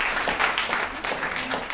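Audience applause at an evening civic event with music and drinks, a short stretch of steady, fairly close clapping from a crowd.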